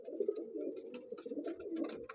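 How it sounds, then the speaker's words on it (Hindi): Moradabadi pigeons coo in low, soft, continuous murmurs, several birds overlapping close by, with faint flutters and scratches over the top and no talking. "सब मुरादाबादी कबूतर है"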